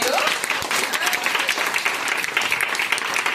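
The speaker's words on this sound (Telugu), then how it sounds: "మరి వారికి ఒకసారి చప్పట్లు కొట్టరా మీరు?" An audience at a dance event applauds with loud, dense, continuous clapping from many hands that fills the whole stretch evenly, with no break.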